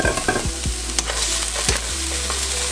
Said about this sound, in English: to the onions and garlic, I'm gonna add a half a cup of cabbage